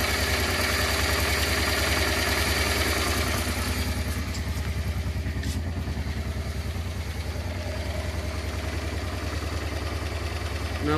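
A Honda Transalp motorcycle engine idles steadily after a carburetor mixture-screw adjustment, a loud, close, even putter with mechanical clatter running throughout.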